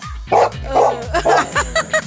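A dog barks repeatedly at close range outdoors, loud and in a quick run of sharp barks with short gaps, some yips mixed in.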